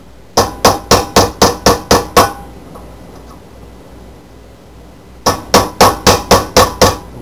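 Hammer punching holes into a tin can displacer, two quick bursts of about seven sharp metallic strikes each, close and loud, separated by a few seconds of quiet room noise.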